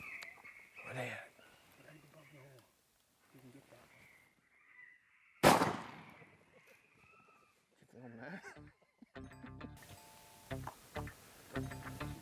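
Electronic raccoon distress calls from a Lucky Duck Revolution predator caller, heard outdoors as a series of squalling, chattering cries with bursts of louder squeals, a sharp noise near the middle, and people talking quietly in between.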